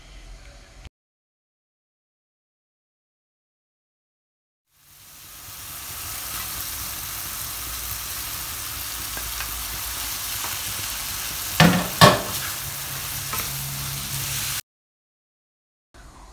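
Okra frying in a pan gives a steady, even sizzle that runs for about ten seconds after near silence, with a brief louder stir or scrape near the end before it cuts off.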